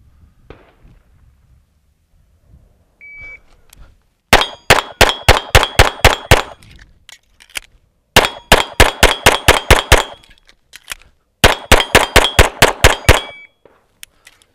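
Pistol shots ring off an Action Target static steel target in three rapid strings of sharp metallic clangs, each burst a fast even rhythm of loud pings with short pauses between strings at an outdoor range.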